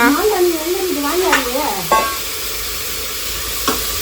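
Onion and eggplant sauté in a home pan with a steady close sizzle and a few sharp stirring scrapes. A voice is heard over the first two seconds.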